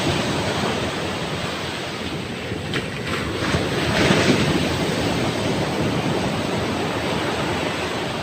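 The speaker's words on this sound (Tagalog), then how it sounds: "ang aming tabing dagat oh ang alon" Large typhoon-driven sea waves wash continuously onto a beach, a dense, loud roar of surf with wind buffeting the microphone and no talk.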